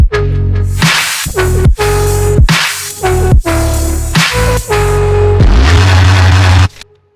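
Loud electronic drum hits with a swelling, washed-out reverb sweeping up into each snare, repeating in a punchy pattern before a final sustained hit fades out.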